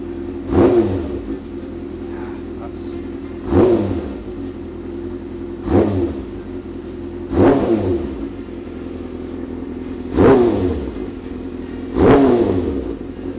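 A 2019 Kawasaki Ninja ZX-6R with an M4 exhaust revs six times in sharp, evenly spaced blips above a steady idle, each rise and fall loud and close.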